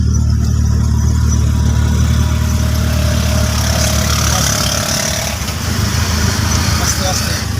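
A car engine hums steadily during a driving lesson at a Bogura motor driving school, a loud, close, continuous low drone, with voices present over it.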